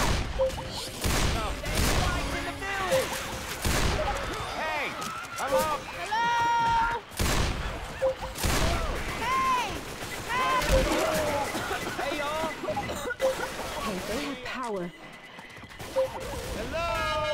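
Gunfire in the zombie video game Left 4 Dead 2, with scattered shots and bursts sounding through a chaotic fight alongside shouting voices, growls and whinny-like cries.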